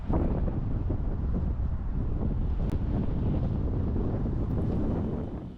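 Strong wind buffets the microphone on an open hillside walk up Pendle Hill, a loud continuous rumbling roar with no talking.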